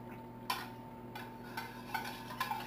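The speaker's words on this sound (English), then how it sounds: "So just stir that up, and you're going to let that just heat and melt in there." Cream cheese stirred into a sauce in a pan, with a few sharp scraping taps of the spoon against the pan at uneven intervals, faint and close over a steady low hum, no talk.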